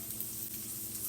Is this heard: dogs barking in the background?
no